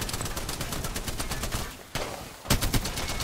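Rapid gunfire in the video game Apex Legends, a dense run of repeated shots that pauses briefly near the end, then resumes with a couple of louder bursts.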